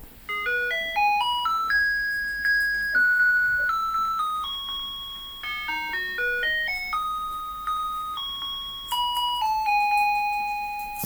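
Taiwan garbage truck melody in its post-2012 smooth sound version: a clean electronic chime tune of bright, bell-like notes stepping up and down in repeated phrases, steady and fairly close for about eleven seconds.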